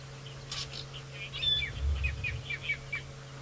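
A fork-tailed drongo calls in sharp, repeated chirps while mobbing a predatory bird at dawn on a safari drive, the calls fairly faint and spread over a low steady engine hum.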